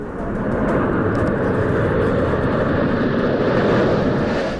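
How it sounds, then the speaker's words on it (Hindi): Military jet engine roaring loud and steady at a Ladakh airbase, a continuous broadband rumble with no break, as aircraft land and take off. "पूरे एयरबेस पर इसी तरह फाइटर प्लेन, अटैक हेलीकॉप्टर्स और ट्रांसपोर्ट एयरक्राफ्ट की लैंडिंग और टेक ऑफ का सिलसिला जारी रहता है।"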